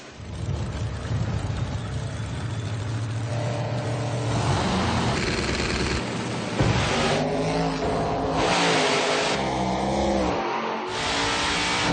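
Race car launching at the start of a drag race, its engine revving hard and climbing through gears, loud and close, with sharp shifts and a rising roar.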